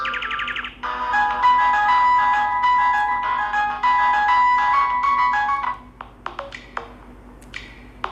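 A budget keypad mobile phone's ringtone, a bright electronic melody of beeping tones, plays steadily for several seconds, then stops, followed by a few scattered clicks and taps.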